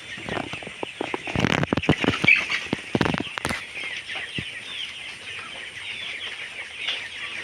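Chickens cluck and squawk in a raised-platform coop, with a busy burst of calls and wing flaps early on before settling into softer, steady clucking nearby.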